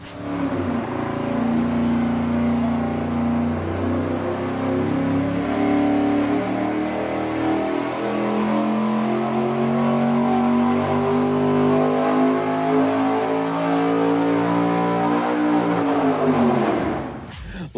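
A 363 cubic-inch V8 on an engine dyno during a baseline pull, its loud exhaust note climbing steadily in pitch under full throttle for the whole run before cutting off abruptly at the end.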